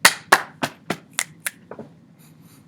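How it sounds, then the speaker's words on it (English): Body percussion played in a steady beat, with sharp claps, pats, finger snaps and a stomp, one at a time, close and clear, fading toward the end. No talking. "For this one we have clap, clap, pat, pat, snap, snap, stomp."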